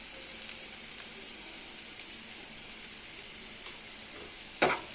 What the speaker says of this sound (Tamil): நான் ஒரு நாலு பூல் பல்லு நசுக்கி போட்டிருக்கேன் பாருங்கள் வெங்காயம் கொஞ்சமாக போட்டிருக்கேன்